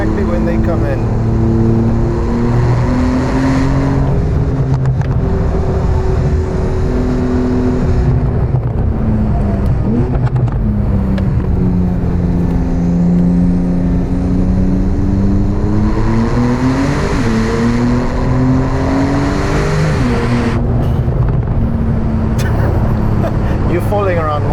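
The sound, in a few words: Techart GTstreet R Porsche accelerating hard, engine revving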